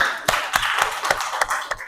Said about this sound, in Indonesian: Oke, tepuk tangan tengahnya.